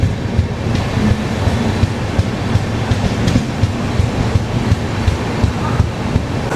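Tirupati to Visakhapatnam AC double-decker passenger train running, heard from inside as a steady loud rumble with rhythmic wheel clatter and rattling, and no voices.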